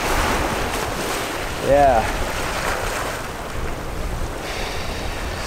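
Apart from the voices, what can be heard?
paddling a kayak on ocean waves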